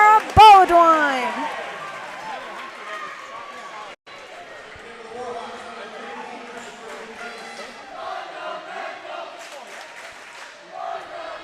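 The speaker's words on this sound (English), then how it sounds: "Student section cheering the fundamentals." A student section crowd cheering at a high school girls volleyball game in a gym, with loud whoops at the start, then a steady murmur of voices and shouts, and a commentator talking over it.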